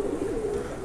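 Close, soft cooing of a Siraji pigeon, a steady low rolling coo that warbles continuously through the short moment with no talk.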